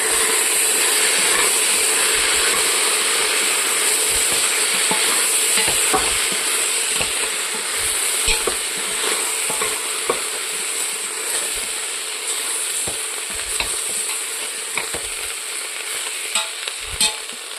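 Spice powder frying in a pan with a steady loud sizzle throughout, broken by soft scraping and clinking as it is stirred, with no talking.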